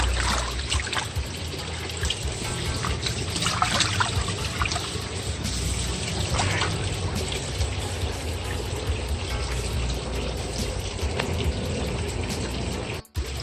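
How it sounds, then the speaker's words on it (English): Goldfish pond water siphons out and runs off into a garden. It is a continuous trickling, splashing flow, fairly close and steady throughout, with no talk. "Right now this is running off into the garden."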